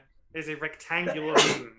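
A single sharp sneeze bursts out near the end of a short stretch of speech, close and loud, during a tabletop role-playing game session.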